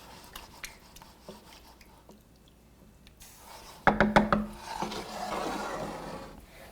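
Broth and oregano sprigs are stirred in a pan for Spanish-style mussels with chorizo, starting as quiet scraping. A burst of clanking utensil strokes follows, then a steady rubbing swish as the liquid is mixed, with no talking.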